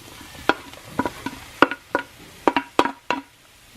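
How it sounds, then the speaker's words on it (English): Mushrooms stirred into a hot pan of garlic butter green beans, with a faint sizzle under a series of sharp, close spatula knocks and scrapes that come in an uneven rhythm. "then I'm going to add my mushrooms"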